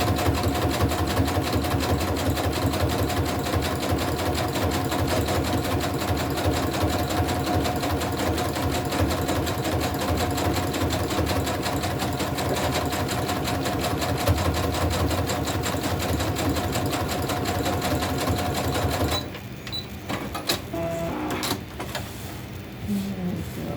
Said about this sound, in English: I'm going to switch over to my big old zigzag stitch to really hold that bad boy in there.